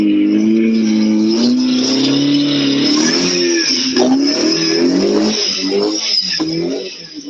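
An off-road vehicle with a turbocharger and supercharger, still clearing oil from its intakes, runs steadily while crawling over hard rock, its engine droning loud and close with a shifting pitch and faint rattles, easing off near the end.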